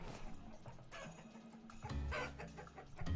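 Chickens in the survival game Vintage Story, clucking and squawking in a busy, fairly close cluster that stands alone without speech, with a louder burst of calls toward the end.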